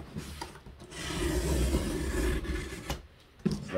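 Cardboard from a shipping box for a golf driver being sliced and trimmed: a close, rough scraping and rasping cut lasting about two seconds between a few short scuffs and taps.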